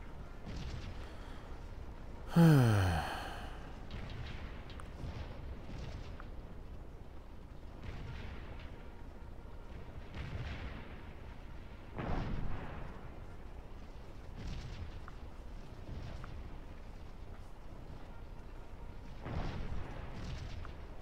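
A distant boom of artillery fire rolls out early, followed by scattered, softer reports of musket and cannon fire over steady battlefield ambience in the Civil War game Scourge of War: Gettysburg, the Antietam battle, while Union cavalry take flank fire.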